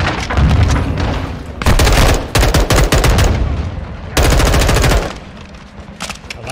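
Loud, close gunfire in the video game Modern Warfare II, heavy automatic bursts with booming impacts, broken by brief pauses between volleys.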